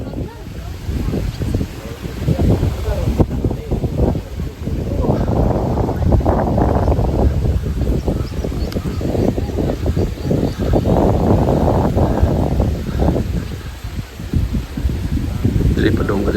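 Wind gusting across a mountain campsite, a steady rushing roar buffeting the microphone throughout, with voices talking over it.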